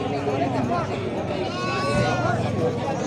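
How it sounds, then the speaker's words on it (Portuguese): Goats and sheep bleat at an outdoor livestock fair in Vila Jerimum, Pernambuco, their wavering cries overlapping continuously nearby while people talk over the crowd babble. "Muita cabra e ovelha também, viu aí?"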